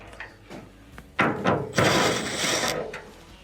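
Quarter-inch screws come out of a clothes dryer drum baffle, with a few light clicks and knocks followed by a longer whirring burst from a driver, close by with no talking.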